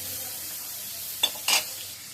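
Pointed gourd (potol) fries in hot oil with a steady low hiss, and two brief louder spits of sizzle rise near the end.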